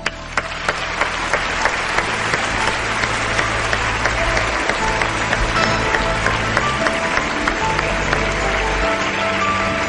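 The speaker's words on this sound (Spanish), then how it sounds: "un fuerte aplauso para la voz en off" Theatre audience giving loud, sustained applause for the voice-over actor at a stage show, dense close clapping from a full house that runs the whole time, with a few sharper claps standing out.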